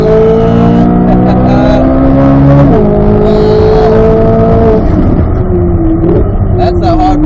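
A 2024 Corvette Z06 with the Z07 package on a hot lap at NCM Motorsports Park, its engine loud and close inside the cabin, rising through revs with distinct shifts and a brief lift near the end.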